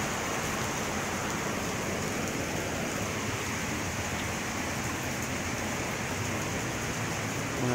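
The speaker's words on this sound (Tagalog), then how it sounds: "Kasi ulan." Steady rain falls without a break, a dense even hiss that fills the space close by, uniform in loudness with no voices or other sounds standing out.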